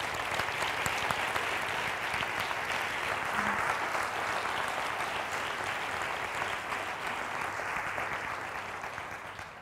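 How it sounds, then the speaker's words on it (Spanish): Steady applause from a large audience at the presentation of the Magna Mariana procession 'María, Reina de la Salvación', dense even clapping sustained for the whole stretch at moderate loudness with no talk over it. "yo en este momento sí que pediría un aplauso para estas medidas que se van a llevar a cabo"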